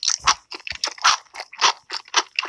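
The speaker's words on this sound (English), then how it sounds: "Crunchy. Yeah, I was about to say, that sure does sound crunchy." Close, loud crunches of someone chewing yellow pickled radish in an ASMR recording, a rapid series of crisp bites and chews in an uneven rhythm with no talking.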